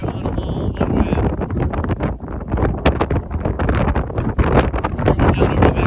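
Strong wind gusts around 60 mph during a severe thunderstorm event roar and buffet the microphone in loud, choppy bursts, a continuous rushing with rapid rumbling pulses throughout.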